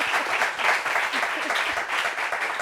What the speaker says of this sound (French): Applaudissements pour elle déjà.